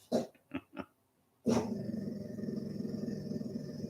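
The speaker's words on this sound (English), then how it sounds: "You didn't have to growl at a truck." A dog growls at a truck passing across the road: three short low growls, a pause, then a sustained close growl mixed with the rising hum and rush of the passing vehicle.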